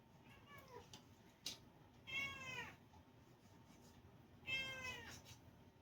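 A house cat in a kitchen meows twice, clear, close calls separated by a quiet pause, with a faint click of preparation noise between them.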